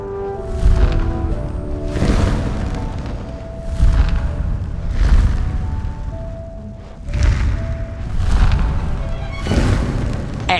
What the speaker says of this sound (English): You'll need to learn to flick fire accurately,